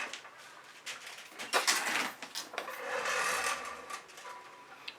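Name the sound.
scraping acrylic paint in a pour painting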